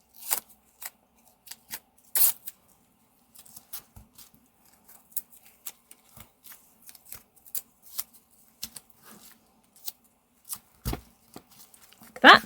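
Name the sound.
masking tape being torn and applied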